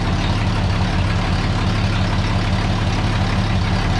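The original 1932 engine of a rat rod, rated at 50 horsepower, idles steadily with a loud, constant low rumble that never changes, with no voices over it.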